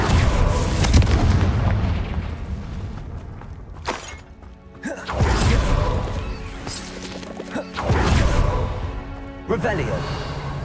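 The Confringo fire spell in the Hogwarts Legacy video game sets off three heavy explosive blasts, each with a crashing, shattering tail, spread a few seconds apart. A voice talks between them.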